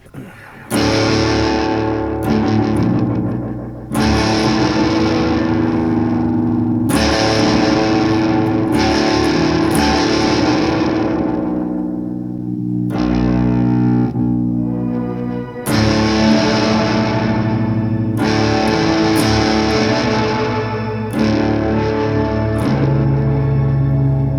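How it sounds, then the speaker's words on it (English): Distorted electric guitar chords ring out with a bright, shimmering delay tail that swells and sustains between strums, loud and continuous. "The shimmer delay. I don't hate that, but I don't want it to be so bright."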